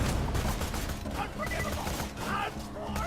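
Rapid crossfire gunshots rattle in Borderlands 2, a busy stream of overlapping shots and mechanical clatter at moderate distance, with a voice talking over the fighting.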